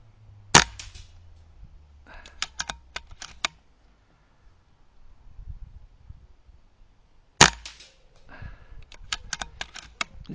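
Two sharp air rifle shots, each followed by a rapid run of metallic clanks and pings as HFT field targets are struck and knocked down outdoors, with low wind rumble between the bursts.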